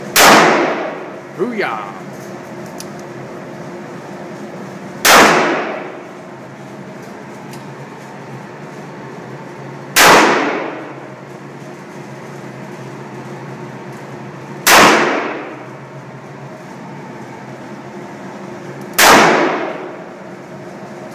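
A .38 revolver fired at steel targets: five sharp, loud gunshots spaced roughly four to five seconds apart, each with a quick ringing decay, while a person briefly cheers between shots.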